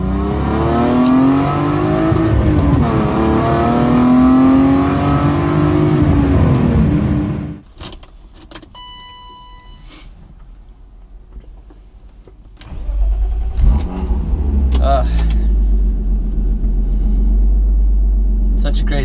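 Car engine revving with a rising, wavering roar, then cutting off to a near-silent pause with faint clicks before an engine cranks and fires up again into a deep, rumbling idle.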